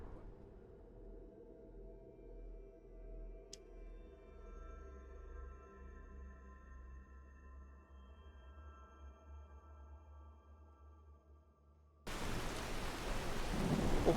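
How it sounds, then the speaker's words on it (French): Rain and a thunderstorm in the video game Skyrim: steady rainfall over a low, rolling thunder rumble, with the rain growing suddenly louder and harsher near the end. No talking. "putain, il pleut bien."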